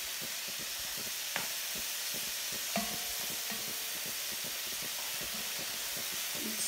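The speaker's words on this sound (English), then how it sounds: "then we're going to let it brown and build that fond on the bottom of our pan" Quiet, steady sizzle of sausage browning in a pan, a broad hiss with a few faint clicks and scrapes, no voices.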